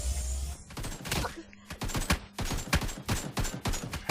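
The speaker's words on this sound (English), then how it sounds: "That's an AK." Rapid bursts of AK rifle fire in a survival PvP video game, loud close volleys of sharp repeated shots with brief gaps between bursts.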